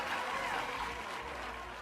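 A steady burst of applause plays as a sound effect on a podcast, a continuous crowd clapping at moderate level with speech faintly mixed in.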